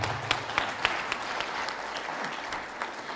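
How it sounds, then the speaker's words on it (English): Brief, fairly faint applause from a conference audience for the panelists at an oil and gas conclave plenary session, with scattered individual claps standing out over a soft crowd wash. "may I request the audience to laud them with a round of applause"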